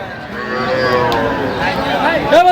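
A cow gives a long, loud, close moo at a rural livestock market, its low call holding steady for a couple of seconds amid faint crowd chatter and a brief voice near the end.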